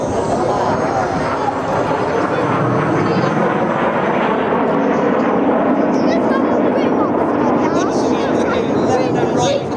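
Red Arrows jets roar overhead during the vertical break at a seaside air show in Clacton-on-Sea, Essex, a loud sustained engine rumble and whoosh that shifts in pitch as the aircraft pass, with a commentator speaking over it.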